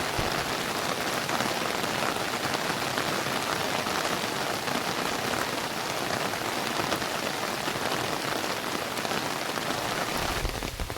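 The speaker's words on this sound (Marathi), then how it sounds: "काय पाऊस पडतो सॉलिड" Heavy monsoon rain pours down in the Konkan countryside, a dense, unbroken roar of drops drumming on surfaces that holds steady throughout, with no voices.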